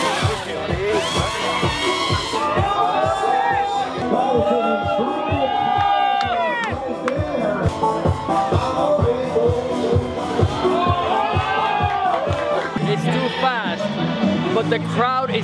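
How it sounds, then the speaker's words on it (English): A crowd cheers and shouts at a drone freestyle flight at the 2016 Drone Nationals in New York, excited whoops and calls layered over the buzzing, pitch-sweeping whine of a racing drone's motors and sharp thuds, loud and continuous. "the crowd is going nuts over the 3D"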